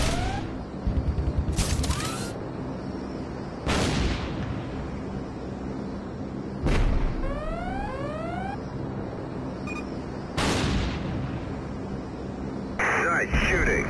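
Heavy gunship cannon fire in the video game Zombie Gunship booms in spaced bursts, each blast sharp and loud with a rolling tail, interspersed with electronic game tones and radio chatter in the background.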